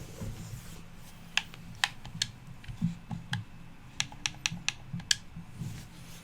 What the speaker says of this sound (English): the controller is very clicky